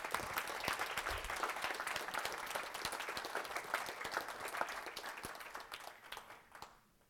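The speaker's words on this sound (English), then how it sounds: "Maybe an applause to all the PC members." An academic conference audience gives a steady round of applause for the programme committee members. The sustained, fairly distant clapping holds at an even level, then tapers off at the end.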